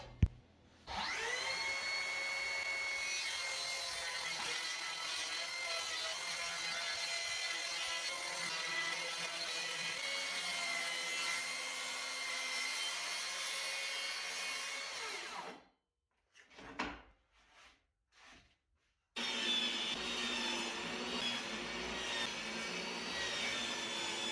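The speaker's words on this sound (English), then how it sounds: "I brought all those sections over the table saw to cut them to a final width of 18 inches" A table saw rips plywood sections down to 18-inch widths in a woodworking shop, giving a steady, loud whining drone that stops briefly with a few short bursts before running continuously again.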